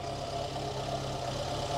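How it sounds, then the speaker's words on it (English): Lancia A112 Abarth engine idling with a ticking noise, a steady moderate running hum heard close at the engine with faint regular mechanical ticking, no talk. "take a listen to the engine."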